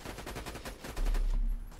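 Sustained automatic fire from the Lyudmila gun in Borderlands 2, a rapid rhythmic stream of loud shots with a heavier, booming stretch in the middle.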